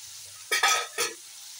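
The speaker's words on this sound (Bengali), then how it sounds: "এটা হচ্ছে মানে বরবটি ভাজা করছি" Yardlong beans with a little eggplant fry in a pan, giving two short bursts of stirring and sizzling over a quiet background.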